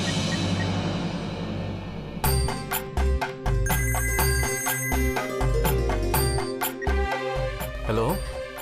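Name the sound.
phone ringing while calling a husband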